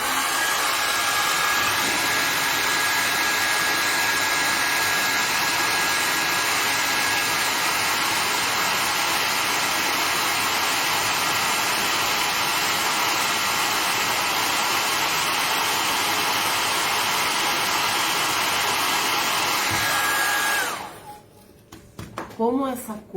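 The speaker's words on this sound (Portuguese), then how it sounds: "Então, agora eu vou secar." A hair dryer blowing on fresh paint, a loud, steady whooshing hum with a constant whine that runs almost unbroken for about twenty seconds before switching off, followed by brief quiet sounds and a voice.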